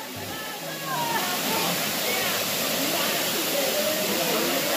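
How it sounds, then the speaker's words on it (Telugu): Bimunipadam waterfall pouring strongly, a loud, steady, close roar of rushing water that swells slightly after the first second and holds without a break. "ఇప్పుడు ఫుల్ వస్తాయి వాటర్"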